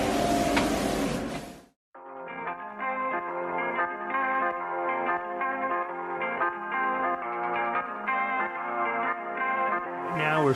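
A spray gun lays down sealer paint on a car body, a brief loud hissing rush at the start and again at the end, with tonal background music filling the middle.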